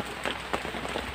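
Rain falling on a hut, a close, steady patter of drops with small irregular taps over a constant wet hiss.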